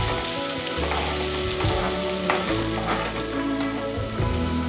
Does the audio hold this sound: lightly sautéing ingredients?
yes